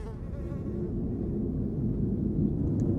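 Flies buzzing close by, a low, continuous droning hum that wavers slightly in pitch and loudness, heard alone without voices.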